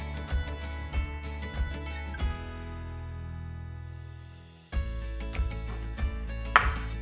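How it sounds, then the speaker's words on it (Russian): A knife cuts bell pepper into triangles on a cutting board, with sharp regular taps that pause briefly in the middle before resuming, over steady background music. "Болгарский перец нарезаем треугольниками."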